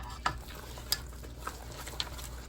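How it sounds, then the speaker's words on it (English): Onion and garlic seasoning being stirred into squash dressing, with a few soft scraping strokes of a spoon against the dish over a faint low background hum. "And we're gonna get this stirred."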